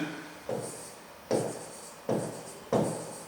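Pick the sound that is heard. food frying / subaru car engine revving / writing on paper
writing on paper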